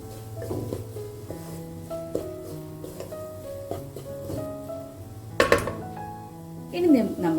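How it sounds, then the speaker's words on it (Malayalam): Garam masala, pepper and chilli powder with salt are sautéed in a pan for dosa puffs filling, with a metal spatula clanking and scraping against the pan in irregular, fairly loud bursts. "ഇതൊക്കെ ചേർത്ത് ഈ ഒരു പൊടികളുടെ ഒരു പച്ചമണം മാറുന്നത് വരെ നമുക്കൊന്ന് വാട്ടിയെടുക്കാം."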